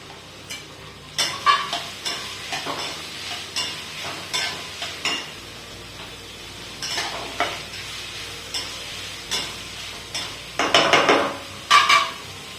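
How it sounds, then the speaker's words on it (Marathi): Chopped onion sizzles in ghee with bay leaf while a spoon repeatedly scrapes and stirs the pan, with rhythmic clinks and a louder burst of frying near the end; there is no talking. "इथे मी एक मोठा चमचा तूप घेतलेला आहे तमालपत्र आणि हा जो कांदा कापून घेतला आपण तो टाकायचा"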